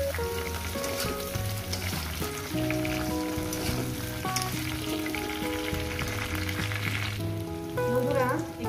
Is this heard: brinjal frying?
yes